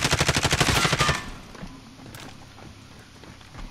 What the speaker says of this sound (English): He's getting shot by that other guy.